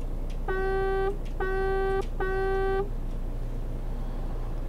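Three short honks of a truck horn in Euro Truck Simulator 2, each a steady harmonic blast under a second long, evenly spaced and loud over a low engine rumble.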